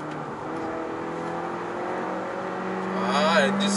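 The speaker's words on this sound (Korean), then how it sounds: "스포츠 모드에서 가속 페달을 좀 깊게 밟으면 이런 소리를 만나게 됩니다." Inside a Honda Accord with the 1.5 turbo engine in sport mode, the engine hums and then swells as the car accelerates hard, the pitch climbing toward the end over a steady cabin drone.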